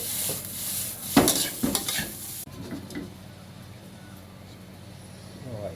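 Shallots stir-fried in plenty of oil give a close sizzle. Spatula strokes scrape and clatter in the first half, then a quieter, steady frying hiss continues alone.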